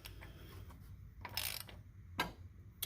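A ratchet tightens a 1 15/16 inch nut on a Willys MB Dana 18 transfer case, a few close, quiet clicking and metallic ratcheting bursts separated by short pauses.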